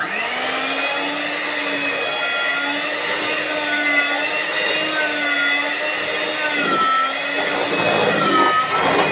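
Electric hand mixer whirring steadily through cake batter for muffins, a continuous loud motor drone with a slight pitch wobble, alone without talk.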